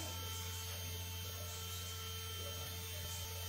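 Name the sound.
electric fan running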